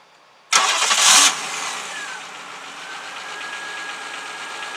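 A 1995 Chevrolet Monte Carlo LS engine starting by remote start: a sharp loud crank burst that catches, then settles into a steady idle heard alone.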